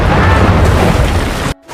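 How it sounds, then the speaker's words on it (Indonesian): A wartime explosion in a story about a young German soldier on the front line against French troops: a loud, dense blast rumbling steadily for about a second and a half, then cutting off abruptly. "Beruntung Paul terselamatkan sebuah ledakan di area tersebut yang membuat musuh terpental jatuh."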